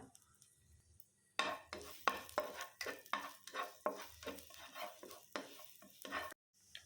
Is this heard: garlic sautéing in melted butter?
yes